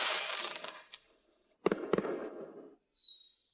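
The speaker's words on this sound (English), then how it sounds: "The fireworks are lovely." Fireworks burst over a palace in a time-travel drama: two sharp, loud cracks in quick succession followed by a crackling fizz, after an earlier whooshing rise and before a faint high whistle.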